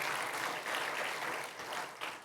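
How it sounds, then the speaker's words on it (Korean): Steady, dense applause from a church congregation during a Sunday service, welcoming new members of the church family, sustained at an even level throughout. "잠깐 일어나시면 박수로 환영하겠습니다"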